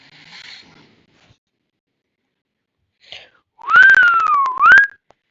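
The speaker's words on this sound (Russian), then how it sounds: "Свистеть нехорошо, не свистеть." A person whistles a short sliding tune, rising and falling for about a second, clear and close after near silence and a faint rustle.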